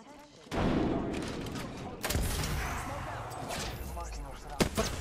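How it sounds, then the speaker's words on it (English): Gunfire in a shooter video game: bursts of rapid shots and heavy booms come in dense volleys. Loud explosive impacts mix into the fire, with voices partly underneath. "Look out, the enemies are shooting at me."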